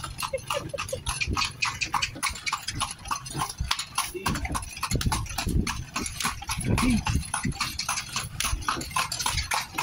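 Steady clip-clop of a horse's hooves pulling a kalesa carriage in Vigan, a brisk even rhythm close by over street bustle, with voices talking faintly underneath.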